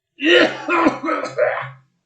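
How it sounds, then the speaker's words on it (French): A person coughs and clears their throat in a few rough, close bursts over about a second and a half, with a short pause between each. "j'avais toussé"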